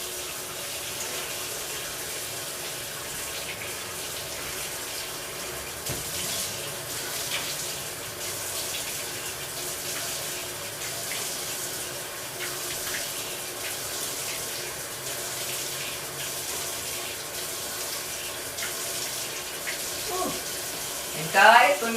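Water runs steadily from a kitchen tap as a face is rinsed after exfoliating, a continuous hiss of flowing water through the whole stretch with brief splashes at the end, moderately close.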